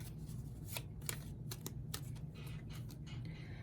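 Tarot cards are shuffled in a series of crisp, riffling bursts, close and clear, with no talking.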